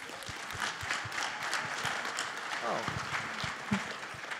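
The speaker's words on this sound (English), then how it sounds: "I wasn't sure if that would, get applause, but I'm glad it does" Audience applause at a live onstage talk at the ASU+GSV 2022 conference, a dense wash of clapping spread through the room, steady and moderately loud for several seconds, with scattered louder claps standing out.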